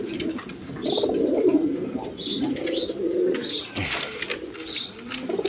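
A pair of red Gola pigeons, a male and a female, sit on their eggs and coo continuously, a close, low rolling drone with soft higher chirps breaking through at intervals.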